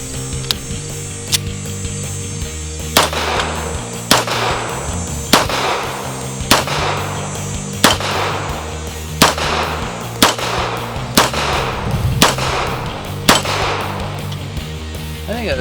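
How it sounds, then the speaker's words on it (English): A Girsan Yavuz 16 Regard MC pistol fired at steel targets on an outdoor range: about ten sharp, evenly paced shots with ringing impacts over low background rumble. "Shoot some steel out there"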